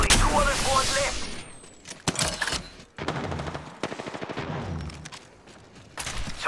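Gunfire in Apex Legends, rapid automatic bursts separated by short pauses, loud and close, with game sounds and a voice mixed in.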